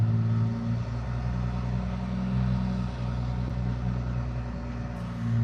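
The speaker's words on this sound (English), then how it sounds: "I'm just going to assume it's construction cars, but it could be someone with a loud car." Loud car engines from nearby construction hum and rumble continuously close by, a steady low drone with slight swells, no voices over it.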